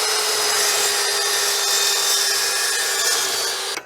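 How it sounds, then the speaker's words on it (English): A power saw with an aluminum-cutting blade makes a recut through aluminum stock. It gives one loud, continuous, high-pitched cutting whine close by that holds steady for a few seconds, then cuts off abruptly. "And now to do a recut of the aluminum to see how good it is compared to the first time."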